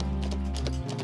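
Horses trotting with a cart on a farm, a quick run of hoof clops over a low steady rumble.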